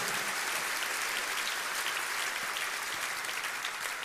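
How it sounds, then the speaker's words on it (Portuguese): Church congregation applauding during a sermon, a steady, dense wash of clapping from many hands holding at an even level throughout. "Você pode aplaudir o Senhor por essa palavra?"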